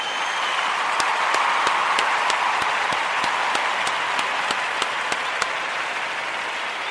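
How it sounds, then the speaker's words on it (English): An audience applauds during a daily toast show, a continuous wash of clapping with sharp evenly spaced clicks cutting through at a steady beat, no voices over it. "I want to give all of the Ujamaa babies a round of"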